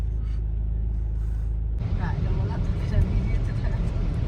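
Low, constant engine and road rumble inside a car driving on a rainy day in Linz, Austria; the drone deepens and turns rougher partway through and continues steadily to the end.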